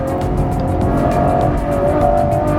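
Ferrari GTC4Lusso, a four-wheel-drive grand tourer, accelerating hard under full throttle, its engine note loud and close with a rising wail and steady, dense roar throughout, no talking.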